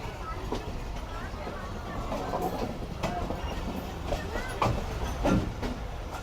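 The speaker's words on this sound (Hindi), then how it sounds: "और ये पूरी ट्रेन जो है ये आहिस्ता आहिस्ता लाहौर जंक्शन को छोड़ रही है" The Islamabad Express rolls slowly out of Lahore Junction, a low rumble of the carriages marked by scattered clicks and clanks from the wheels and couplings, heard under someone talking.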